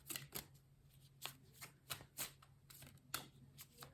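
Oracle cards being shuffled by hand, a quick run of soft papery riffles and slaps repeating at a steady pace, close and fairly quiet over a faint steady hum.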